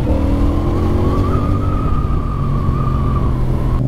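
A CF Moto 450CL-C motorcycle engine drones loud and steady throughout, a continuous close-up rumble with a sustained tonal whine holding nearly constant pitch, no voices over it.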